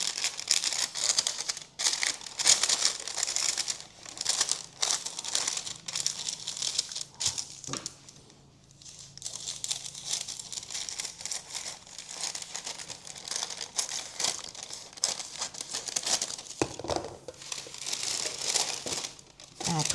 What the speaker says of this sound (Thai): เสร็จแล้วเราก็ตัด กระดาษนะคะ